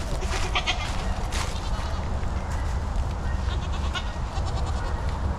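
Goats walking in a group outdoors bleat repeatedly, overlapping calls rising over constant wind noise and rustling, mostly in the first half and again faintly toward the end.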